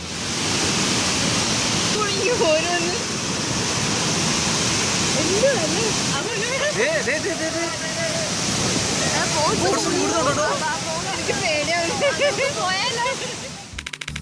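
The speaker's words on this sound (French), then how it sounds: "Ceux qui visitent cette chute d'eau déchaînée en Inde doivent probablement se sentir immortels." A raging waterfall in India pours in a continuous dense roar of crashing water, with excited voices and shouts from onlookers audible over it through most of the stretch.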